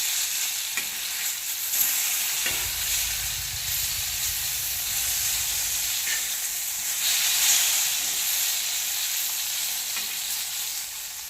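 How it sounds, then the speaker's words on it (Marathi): Thin brinjal slices roast on an iron griddle with a continuous close hiss and sizzle, joined midway by a low rumbling scrape as they are moved around the pan. "आणि मी लोखंडी तव्यावरती हे वांग्याचं भजी करणार आहे"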